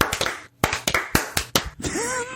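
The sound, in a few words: group clapping for the people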